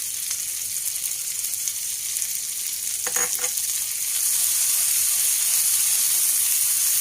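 Ginger and green coriander stirred into frying goat brain masala, a dhaba-style bheja fry, heard as a constant hissing sizzle with a brief clatter of stirring midway before the steam hiss grows slightly louder.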